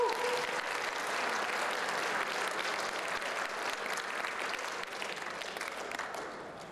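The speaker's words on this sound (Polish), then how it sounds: "mam nadzieję, że dużo oklaski dla Was" Sustained applause from a crowd at the closing ceremony of the LOTOS Nord Cup regatta in Gdańsk, a dense even clapping that carries on throughout and thins slightly toward the end.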